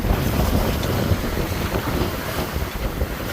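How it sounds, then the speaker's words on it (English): Steady wind roars across the microphone aboard a sailboat under way solo near South Bass Island in about 18 knots, with water rushing along the hull, a constant loud broadband wash and no talk. "Wind's piped up."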